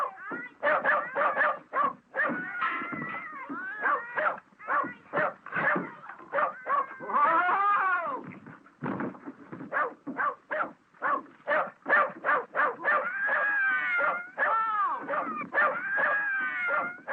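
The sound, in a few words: dog barking and whimpering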